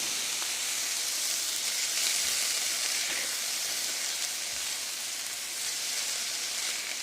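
Philly cheese steak casserole ingredients sizzling and frying in a pan, a steady, close hiss that holds at an even level throughout with no talking.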